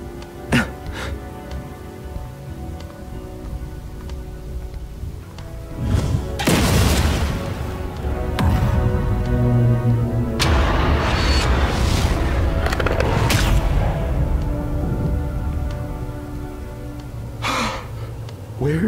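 A bomb blowing up a trap in the video game Lost Ark: a loud, deep boom partway through that lingers as a long rumble, over steady game background sound.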